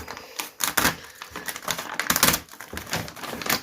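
A not-very-sharp knife cuts open a plastic WPL bag during an unboxing, making a run of close, irregular rustling scrapes and crinkly bursts in uneven short strokes.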